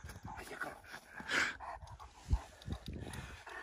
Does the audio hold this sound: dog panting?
yes